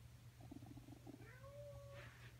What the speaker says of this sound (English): And my cat's meowing in the background.